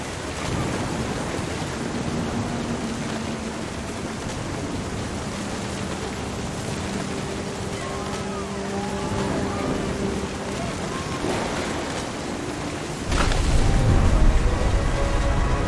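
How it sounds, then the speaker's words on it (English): Steady rain and rumbling thunder from a storm in What Remains of Edith Finch, a continuous broadband wash with low music tones, swelling into a louder, deeper roll near the end. "The thunder sounded much too close and full of angry power."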